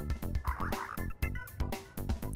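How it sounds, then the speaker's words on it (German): Frogs croak in a Minecraft world at night, a rapid, close, regular chorus of throaty croaks about every quarter second, with no voices. "Die Frösche sind auch schon am Quaken."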